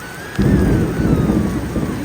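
Rain pours down over a rural garden house yard, a steady hiss of drops with a loud low rumble of thunder rolling in and fading over a couple of seconds.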